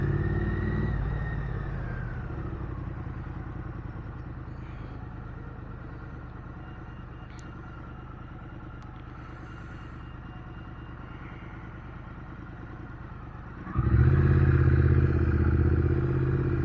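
A Triumph Bonneville motorcycle engine idles with a steady low rumble, then revs up loudly near the end, close by.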